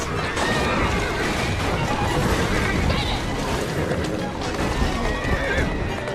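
Horse-drawn carriages in Assassin's Creed Syndicate, set in Victorian London, with loud whinnying horses and clattering hooves over dense rumbling wheels and crashing chaos, continuous and close.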